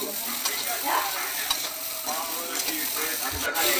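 Potatoes stir-fry in a pan with cauliflower, panch phoron, turmeric, cumin and chili powder, a steady close sizzle broken by scraping stirs and a few soft knocks, with no talking.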